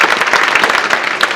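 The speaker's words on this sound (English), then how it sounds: "A huge round of applause to you all." An audience at a Writers Week 2024 event claps loudly and steadily, a dense burst of applause filling the whole moment.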